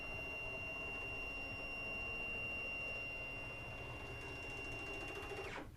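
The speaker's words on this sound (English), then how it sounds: "So I'm gonna move the machine to the center." A Stepcraft CNC machine moving along its axes gives a steady, continuous motor whine with a constant high tone, running unbroken for several seconds before cutting off at the end.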